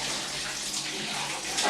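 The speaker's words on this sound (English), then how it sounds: "Got a little pedal you have to push to get the water." Water running from a pedal-operated tap, a steady close hiss of flow pouring without pause and no one talking.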